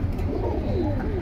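Pigeons cooing nearby in a market-like setting, soft rolling coos repeating over a low background murmur.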